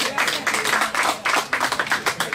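An audience at an album listening party claps loudly and close by, a burst of rapid, overlapping hand claps that swells and dips over a couple of seconds.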